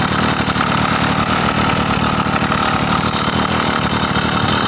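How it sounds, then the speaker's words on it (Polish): A small engine runs steadily and loudly, with a dense, continuous low-frequency chugging throughout; the engine has a worn cylinder and is smoking at the exhaust. "widzę, że chodzi bardziej taki jest ten silniczek delikatniejszy"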